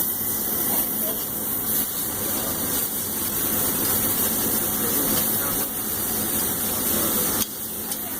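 Philly chicken sizzles and hisses loudly on a hot grill as a knife works through it, a constant spitting fry noise with faint scraping against the grill surface throughout.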